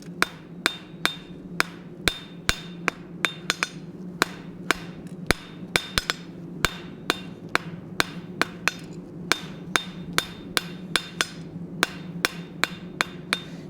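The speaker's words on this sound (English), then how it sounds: "Now we're going to start forging that taper on the end for the hook." A blacksmith's hammer strikes hot steel to forge a taper on a hook, with dozens of sharp, ringing blows in quick, uneven bursts and brief pauses, sounding close and clear over a low background hum.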